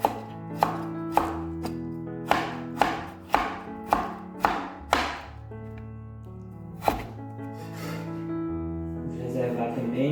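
A knife slices vegetables thinly on a board for kimbap, a run of about a dozen sharp, close chops in an uneven rhythm with a longer pause before a final cut. Soft background noise follows.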